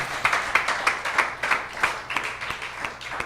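A church congregation applauds its ministers during a special service, producing steady rhythmic clapping in unison, roughly three claps per second, fairly close and clear with a little reverberation and no talk over it.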